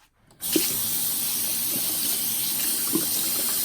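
Tap water runs steadily into a sink as makeup brushes and a sponge are rinsed, a loud continuous gushing stream that starts abruptly after a brief quiet moment, with faint splashes and knocks under it.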